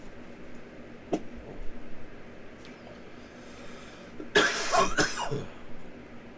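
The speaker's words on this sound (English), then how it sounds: "That was my cough solo." A couple of short coughs from one person, a faint one early and a louder cluster near the end, against a quiet background.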